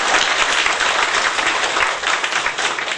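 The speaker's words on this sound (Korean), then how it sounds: "한번 박수 한번 주시죠." A church congregation applauds steadily during a Sunday service at a Korean Holiness church, a dense, even wash of many hands clapping close by with no voices over it.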